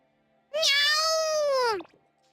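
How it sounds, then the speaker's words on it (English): Charlotte the cat gives a single clear, drawn-out meow up close, rising then falling at the end, lasting over a second against a quiet background. "Meow, little Charlotte kitty cat"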